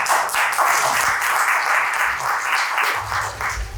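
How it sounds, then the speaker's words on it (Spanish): University colloquium audience applauding in a hall, steady dense clapping from a crowd, loud and continuous across the whole stretch. "David Díaz Ábalos, a quien les pido un fuerte aplauso por favor"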